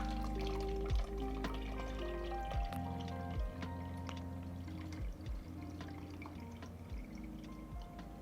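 Water poured into a plastic Treasure X toy container meant to dissolve a rust coating, a close, continuous trickling fill with repeated bubbling glugs and splashy drips at irregular intervals, loud and alone.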